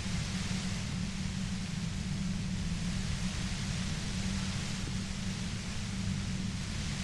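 Steady white noise runs unbroken from start to finish as a dense, even hiss over a low rumbling bed, with no pauses or changes in level.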